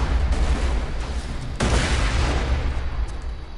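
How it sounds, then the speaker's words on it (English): Grenades explode in the video game Borderlands 2, with dense, rumbling booms that sound close and loud and a sharp fresh burst midway through. "So the explosions didn't kill me, but they pushed my model out"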